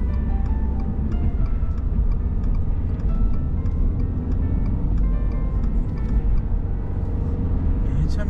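A Mercedes-Benz engine hums steadily and loudly from inside the car, with a low broadband rumble through the whole stretch and small clicks on top.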